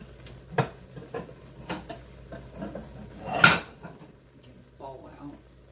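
Ceramic bowls and dishes clink and knock together in a kitchen as one is pulled out, a few sharp clatters followed by a louder rattle, with a faint voice near the end.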